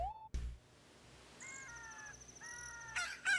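A rooster crows in Zelda: Ocarina of Time, a bright, tonal, game-style call in several rising and falling segments. It sounds clear against a quiet background, with a short thump just before it and no speech.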